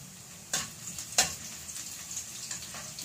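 Garlic and ginger fry in a pan with a soft, steady sizzle, broken by a couple of brief stirring clicks; the sound is faint and has no voices over it.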